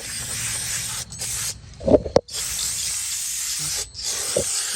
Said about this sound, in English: We can let that sit like that using brake cleaner.